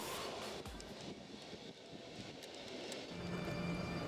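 A double-deck passenger train pulls out of München Hauptbahnhof, a quiet, distant rumble of wheels with faint rail clatter and a low hum that builds slightly toward the end.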